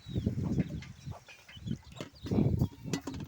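Rooster and hens drinking at water on a farm in the morning, with short bursts of clucking and soft scratching or wing flaps coming close by in uneven clusters.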